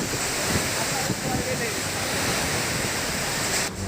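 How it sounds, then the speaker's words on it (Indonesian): Heavy rain and strong wind roar continuously at a food court in Gedangan, Sidoarjo, East Java, a dense, loud wash of noise with gusts buffeting the microphone and no break throughout. "saat hujan deras dan angin kencang terjadi Senin siang"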